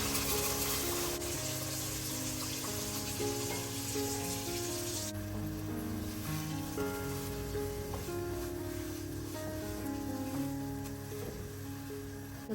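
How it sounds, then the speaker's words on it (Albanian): Hot water poured into a pot of cubed beef that has just been fried, a steady sizzling gush running throughout with no voices, turning quieter near the end. "Më pas do t'i hedhim 1 litër ujë të nxehtë."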